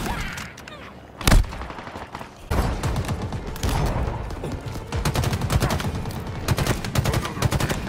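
A big gun in a video game fires repeatedly, with one heavy boom early and then loud, close shots in irregular bursts and rapid volleys layered over game background noise.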